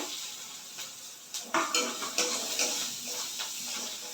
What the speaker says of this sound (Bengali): আর এই যে পেঁয়াজ কুচিয়ে রেখেছি এটা দিয়ে দিলাম